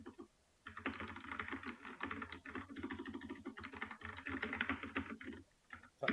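Steady, close computer keyboard typing while Python code is written, a dense run of quick key clicks with brief pauses, over low room hum.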